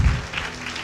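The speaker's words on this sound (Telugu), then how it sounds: "చప్పట్లు కొడతారా గట్టిగా?" Brief burst of audience applause in a church gathering, a dense patter of hands that starts loud and thins out quickly.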